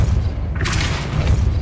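Depulso spell cast in the Hogwarts Legacy video game, a single booming thump at mid-clip over a steady low rumble of game ambience.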